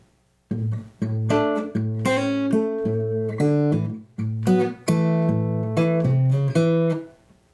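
A slow blues phrase on acoustic guitar: plucked bass notes and chord stabs in a steady, unhurried rhythm, close and clear, ending on a ringing note.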